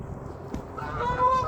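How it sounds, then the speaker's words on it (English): Geese honk outdoors, a few nasal calls rising near the end over a steady outdoor background, moderately distant and not very loud. "A lot of geese out here today."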